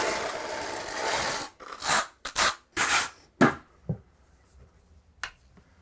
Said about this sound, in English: What I'm going to do here is I'm going to actually trowel the tile